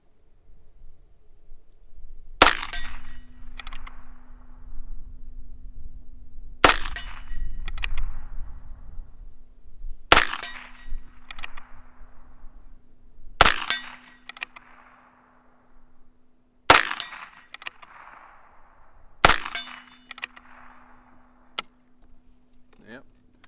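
A scoped Heritage Rough Rider Rancher fires .22 long rifle rounds outdoors, six sharp shots spaced several seconds apart, each followed by a metallic ring, while someone talks between shots.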